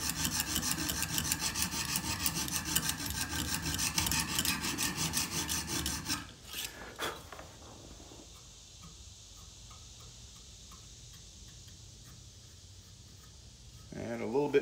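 Sandpaper rubbing on the tip of a leather knife sheath, a rapid close scratching stroke for about six seconds, then near quiet with faint handling.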